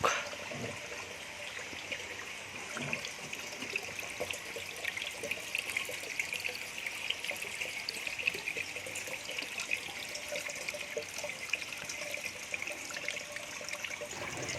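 Water from a mountain spring flowing out from among rocks, a steady, close trickling and gurgling stream with soft splashes, continuous and moderately quiet, without voices.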